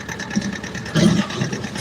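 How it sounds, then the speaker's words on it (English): A small tractor engine runs at a steady idle-like chug, close and fairly loud, with a brief swell in intensity midway and no talking. "I'm on this little tractor, and I'm going to run through the property here."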